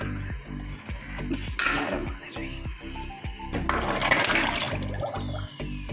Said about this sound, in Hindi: मैं हड्डियाँ डाल दूँगी इसमें